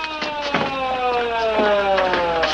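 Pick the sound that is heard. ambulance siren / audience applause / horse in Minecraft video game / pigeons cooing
ambulance siren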